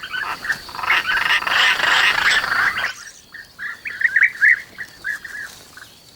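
Bright, chirpy bee-eater calls at a mud-bank nesting colony in short bursts, first dense and overlapping, then spaced, repeated phrases against a quieter background.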